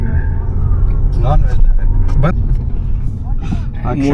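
A car driving on a highway with a first-time driver at the wheel, giving a continuous loud low rumble of engine and road noise with voices talking over it.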